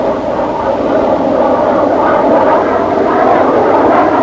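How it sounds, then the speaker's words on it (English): A big McDonnell Banshee jet fighter roars steadily overhead during a fast roll, a loud, sustained broadband engine rush with no breaks and no talking. "First, a fast roll, which, with the aid of the power boost ailerons, the big Banshee performs with all the ease and grace of a smaller plane."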